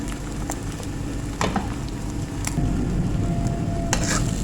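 Egg setting undisturbed in a hot pan for potato chapli kababs, giving a steady close sizzle with occasional stirring scrapes and clicks, growing slightly louder toward the end.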